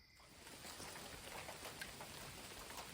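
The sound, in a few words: rain starting to fall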